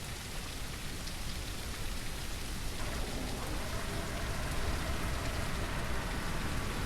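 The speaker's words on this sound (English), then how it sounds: "Thunderstorm incoming!" Steady rain pours down in the SurrounDead zombie-survival shooter, a dense continuous hiss that thickens slightly partway through as the thunderstorm rolls in, with no distinct thunderclap and no voices.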